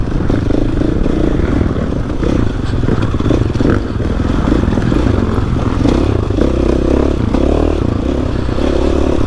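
A 2021 GasGas EX-450F dirt bike ridden along a road, its engine revving and pulsing continuously, close and loud, with some clattering over the rough surface.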